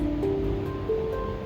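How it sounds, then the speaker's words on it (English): Hot water streams out of a capped teapot in a quick gung fu tea flash steep, a steady, continuous splashing pour heard close up with no talking. "I pour the water out."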